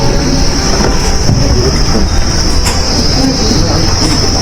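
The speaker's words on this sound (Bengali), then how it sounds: "পথে আমাদের সঙ্গে দেখা হয়ে গেল আমাদের স্বপ্নের টয় ট্রেনের" The Darjeeling toy train passing on the road to Dawaipani, a loud, close rumble of rolling wheels joined by a steady high-pitched squeal that runs through the whole pass.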